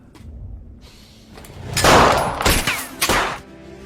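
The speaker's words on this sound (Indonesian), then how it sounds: "Hingga akhirnya mereka berdua adu tembak." Gunfire crackles in a film shootout between two captains, a cluster of loud, sharp bursts and thuds packed into about two seconds, with no talking.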